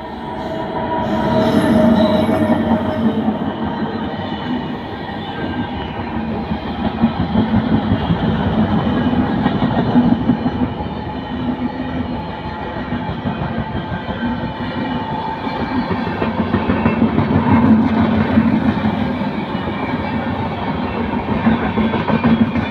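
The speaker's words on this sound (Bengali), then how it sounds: "ফাইনালি কিন্তু সরাইঘাট এক্সপ্রেস আসছে" The Saraighat Express, train 12345 bound for Howrah, arrives and passes close by with a loud, continuous rolling rumble and steady wheel clatter. Wheel squeal rises and falls throughout, with no talking.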